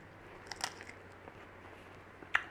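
Crispy corn ribs eaten like ribs, with a few sharp, close crunching bites separated by quiet pauses.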